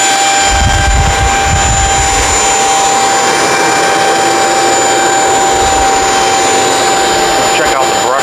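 A Shark Vertex stick vacuum runs loud and close while cleaning carpeted stairs, a steady high-pitched motor whine with a deep rumble as the brush moves over the pile.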